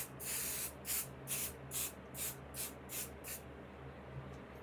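Temporary repositionable adhesive is sprayed onto fabric for a quilted wall hanging in a series of about eight quick, evenly spaced hissing bursts, close and fairly soft.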